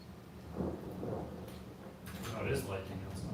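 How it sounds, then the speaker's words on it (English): Thunder rumbles outside during a lightning storm, low rolling booms swelling and fading over a few seconds, with a voice talking over it. "Whoa, mad lightning outside."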